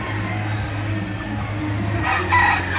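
White Kelso rooster crowing at an outdoor fiesta sale in Nueva Ecija, one loud close crow over steady background noise, no clear speech.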